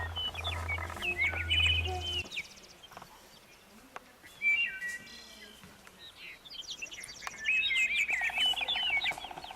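Magpies crying out as a sound effect in a narrated Russian children's tale, a busy run of chirps, chatters and shrill calls spread across the whole stretch, moderately loud with a low hum at the start.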